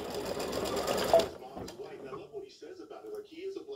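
An embroidery machine running line stitching on fabric in darker orange thread, a loud steady rapid stitching buzz for about a second before stopping, followed by quieter handling and a voice talking.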